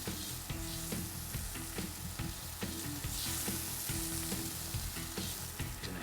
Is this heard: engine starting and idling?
no